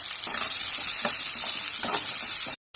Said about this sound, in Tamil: இந்த பூண்டு வெங்காயத்தையும் போட்டு வதக்கலாம்